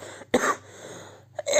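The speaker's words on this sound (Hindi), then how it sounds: "ज़्यादा टाइम बोलते तो खांसी आ जाती है" Two short, sharp coughs close by, separated by a brief pause, with no other sound around them.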